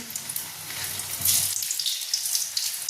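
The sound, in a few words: boiled potatoes frying in hot oil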